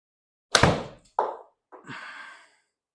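A golf shot struck toward the hole at Sawgrass: one sharp, loud club impact, then a brief second knock and a fainter trailing rush, with no voices.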